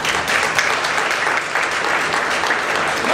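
Steady applause from an audience fills the whole short stretch, dense and even with no voices standing out.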